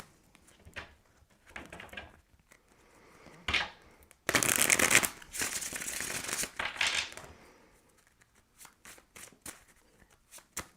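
Tarot cards shuffled by hand during a weekly astrology reading, a run of soft riffling bursts and a louder sustained shuffle in the middle, close and alone without talk.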